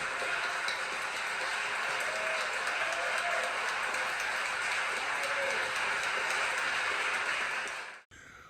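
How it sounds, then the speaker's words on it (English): An audience applauds at an 80th birthday celebration for composer Adolphus Hailstork, a sustained, even wash of clapping at moderate volume that cuts off abruptly near the end. "This applause is for you."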